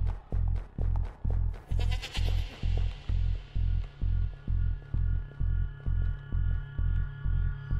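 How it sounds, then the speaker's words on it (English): Deep, rhythmic throbbing pulses repeat steadily, with a drawn-out sheep bleat from the video game Depths of Fear: Knossos rising over them early on, eerie and close. "Horrible, creepy sheep noises."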